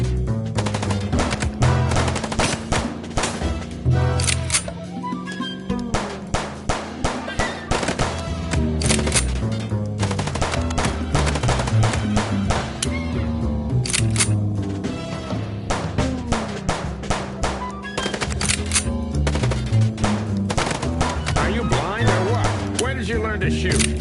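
Rapid bursts of gunfire from the video game Chicken Police, dense and loud throughout, with game voices and music mixed under the shooting.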